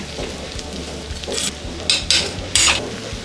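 Chicken sambar masala ingredients dry-roasting in a pan, a soft sizzle under several sharp scraping strokes of a spoon against the pan, close and without speech.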